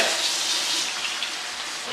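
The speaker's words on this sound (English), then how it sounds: "So I'm pouring all that water in" Cold water pours steadily into a bowl as a continuous bright, hissing splash from start to finish, recorded close and alone.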